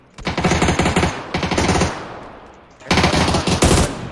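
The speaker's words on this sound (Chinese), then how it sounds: "我还有最后两发子弹，那我狙完。" Rapid bursts of loud gunfire crack out in a video game firefight, two dense volleys separated by a brief lull, then a third burst, close and harsh throughout.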